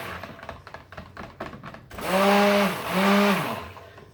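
A stick blender whirs in two short, loud pulses as it mixes raspberry-scented soap batter. Softer handling noises come just before.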